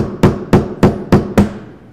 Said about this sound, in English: I just have to hammer like this section a little bit more